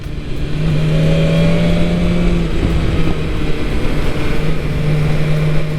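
Engine of a 2022 BMW S1000RR M Sport motorcycle pulling in second gear on a road ride, a steady loud drone with a rising tone under wind rush, heard from the rider's position throughout.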